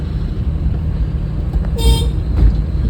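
A short car horn toot sounds briefly over a steady rumble of engine and road noise, followed by a fainter second beep.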